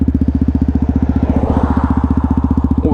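125cc motorcycle engine revs during a wheelie, a loud, close, rapid pulsing drone with an even firing rhythm that holds steady over three seconds.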